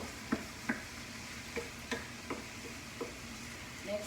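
An onion and garlic mixture for shakshuka is stirred in a pan, a faint steady sizzle punctuated by roughly eight light spoon taps and scrapes spaced about half a second apart.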